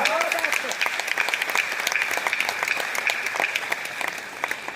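Clapping from the audience at a stage poetry recital, a steady wash of many hands with sharper individual claps standing out throughout, and faint voices beneath.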